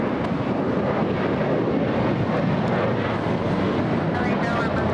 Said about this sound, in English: Back-to-back takeoffs.